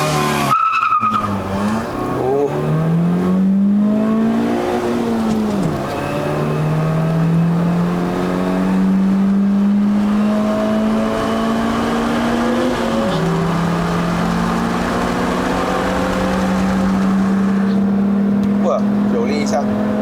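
A 2010 Proton Persona 1.6L with a five-speed manual revs hard under acceleration, its engine note climbing steadily in pitch through the gears, loud and close from inside the cabin, with a voice talking over it.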